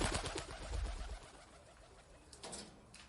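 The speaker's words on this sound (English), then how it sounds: "Let me show you pigeon." Soft pigeon cooing, a few low rounded coos near the start followed by quieter rustling and faint chirps, all at low level with no talk.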